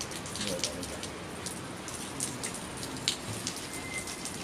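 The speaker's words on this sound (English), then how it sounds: "it started raining" Rain falling steadily outdoors as a continuous soft hiss with scattered drip taps, faint and even throughout.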